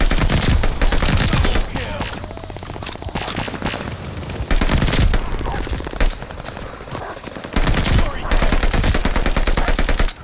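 Rapid automatic gunfire in Call of Duty Vanguard comes in dense, loud bursts with brief gaps between them. A player talks over the shooting in places.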